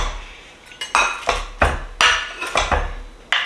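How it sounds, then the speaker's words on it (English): A knife or server cuts into a smoke-fired breakfast casserole in its baking dish, with several sharp clinks and scrapes of metal against the dish at an irregular pace, close and fairly loud, and no talking. "I'm just gonna cut a piece out of the corner here."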